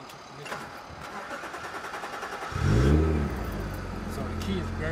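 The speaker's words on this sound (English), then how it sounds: "It still started with the key barely in because the ignition is messed up" A car with a damaged ignition is started on the key. The starter cranks, then the engine catches and settles into a rough idle, close and clear, with people talking over it.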